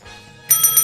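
A bright bell chimes during a live sports talk show quiz segment, a short ringing burst of two or three quick pulses, close and clear, following a brief low hum.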